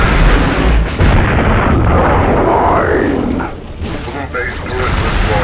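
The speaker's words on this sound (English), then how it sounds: "Blue base turret destroyed." A turret being destroyed in Future Cop L.A.P.D., heavy roaring explosions and bursts over a dense rumbling game mix, loud and close, with game voice lines heard alongside.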